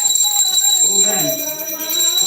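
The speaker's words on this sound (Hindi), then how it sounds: "घंटी बजा ना" A small hand bell rings continuously during a Satyanarayan puja in the Mithila style, its bright ringing tones sustained close up while a voice chants or speaks underneath.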